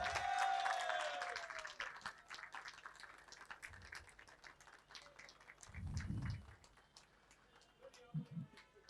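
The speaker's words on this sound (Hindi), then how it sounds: "हम जोरदार तालियों के साथ रोहित साहब का इस्तकबाल करेंगे" An audience greets film director Rohit Shetty with scattered, fairly faint clapping at a celebration event, with individual sharp claps spread irregularly and a few low murmuring bursts beneath.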